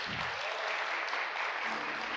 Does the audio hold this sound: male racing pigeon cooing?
no